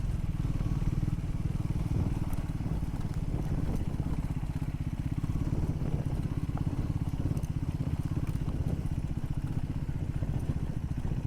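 A Triumph Scrambler 400X motorcycle rides over an off-road patch, its engine a steady, close, continuous thrum with low-frequency pulsing and some light clatter throughout.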